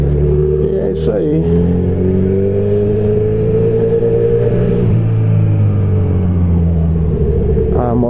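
Honda CB1000R motorcycle engine running with no exhaust fitted, a loud, steady close rumble that rises and falls slightly in pitch throughout, with voices faintly underneath.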